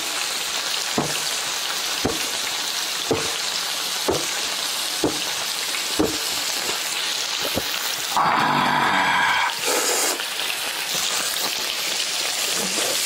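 Thinly sliced frozen pork belly fries in a pan with a steady, close sizzle. Evenly spaced soft taps recur about once per second, and a brief louder burst of noise cuts in near the end.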